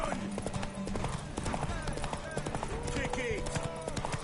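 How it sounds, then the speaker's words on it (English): Horse hooves clip-clop rapidly in a video game, a steady galloping patter under constant game music, effects and people talking over it. "Go, horse."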